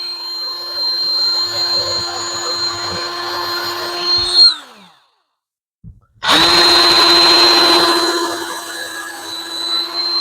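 Power drill boring a hole in a teak deck or boat chair: a loud, steady high motor whine that winds down and stops briefly, then starts up again at full speed, heard up close.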